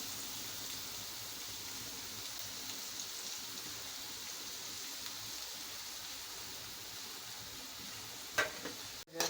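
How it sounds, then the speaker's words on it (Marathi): Onion frying in hot oil in a kadhai while making spicy bhindi masala, a steady, even hiss of sizzling oil throughout, fairly soft and close, ending with a couple of louder clatters from the pan, with no one speaking. "कढईमध्ये आता तेल घातलेलं आहे तेल तापलं की नंतर आपण कांदा घालूया आता कांदा घालते"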